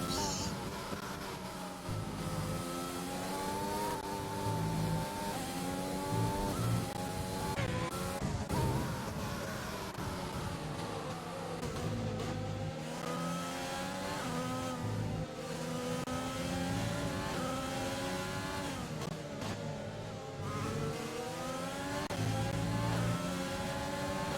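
F1 cars racing at Spa in a racing video game, engines whining and rising through gear changes in repeated sweeping pitch climbs, steady and moderately loud throughout.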